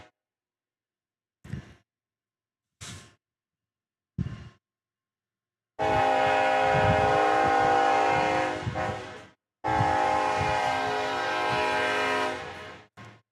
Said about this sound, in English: We got trains right below us. It is a Burlington Northern Santa Fe.